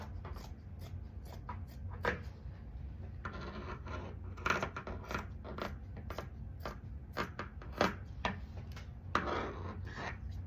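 Scissors snip and rasp through fabric around a hood pattern piece in short, uneven cuts, close by and moderately quiet over a low steady room hum.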